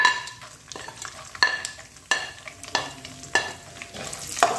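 Almonds, raisins and chironji fry in a pan, with a soft steady sizzle under repeated sharp scrapes and clinks of a spoon stirring against the metal, close and rhythmic.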